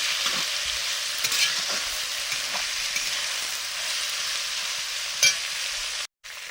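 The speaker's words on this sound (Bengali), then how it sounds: "প্রথমে গাজরটা ভেজে নিচ্ছি আর ওই কড়াইতে" Carrots fry in a wok while being stirred, producing a constant close sizzle broken by soft scraping strokes, with a short drop-out near the end.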